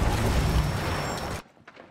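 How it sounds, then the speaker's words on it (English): Barricade smashed apart in Rainbow Six Siege: a loud, dense burst of crashing, splintering debris for over a second, cutting off abruptly into faint trailing rattles. "Somebody broke through the barricade."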